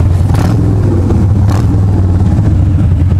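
Motorcycle engine revving loudly and close, a steady throaty roar with two sharp throttle blips early on, heard alone without voices.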